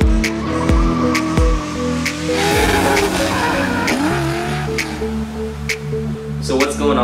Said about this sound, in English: Suddenly you hear and feel the engine forcing out every drop of power it has, the tires screaming, and the car whips sideways into a gorgeous,